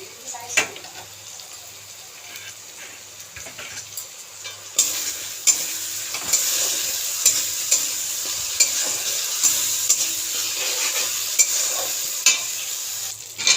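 Spice masala frying in hot oil in a home kitchen, a steady bright sizzle that swells louder partway through, with scraping stirring strokes and occasional clinks close by.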